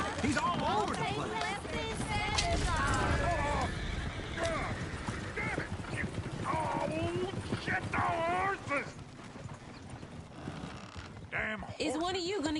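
Horses whinny and hooves clop repeatedly amid busy game noise from Red Dead Redemption 2 on PS4, with a stagecoach nearby and people talking loudly over much of it.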